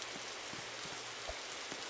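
Steady rain falls in a survival video game, a dense, even hiss of drops with soft patters throughout, no voices.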